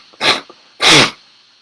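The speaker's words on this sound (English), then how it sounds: "Let me blow my nose quick." Two forceful nose blows, one short then a longer louder one, close up with breathy rushing air.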